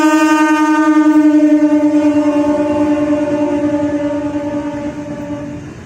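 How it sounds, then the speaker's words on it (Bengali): A toy Indian Railway train gives a long, steady horn-like tone that holds for several seconds and slowly fades, loud and close with no voices. "এটি হলো একটি ইন্ডিয়ান রেলওয়ে।"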